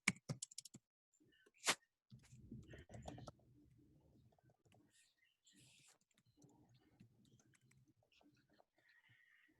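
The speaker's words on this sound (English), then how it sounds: "Let me just type." Keys clack on a computer keyboard in short quick bursts, with a sharp isolated tap and then softer, scattered keystrokes in a quiet room; faint chirps are also heard.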